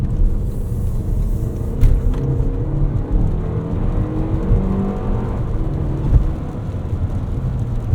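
A 2024 Toyota Grand Highlander Limited AWD with the 2.4 turbo engine pulls ahead under acceleration, a steady loud engine drone and road rumble heard from inside the cabin, with no talking.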